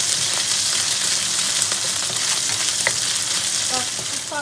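Bagoong fried rice browning in a pan, a loud, steady crackling sizzle close up with a few faint utensil clinks near the end, no talking.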